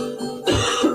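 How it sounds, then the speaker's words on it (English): A single close cough, a short harsh burst with a throat-clearing quality. "Cough."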